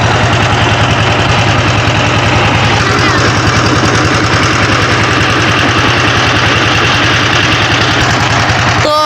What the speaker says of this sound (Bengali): ট্রলারের শব্দটা একটু বেশি শোনা যাইতেছে